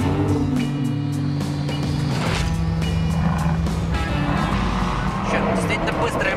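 A fast car howls around a race track during a tyre test on Michelin Pilot Sport 4S, its engine tone rising and falling through gear changes while someone talks over it.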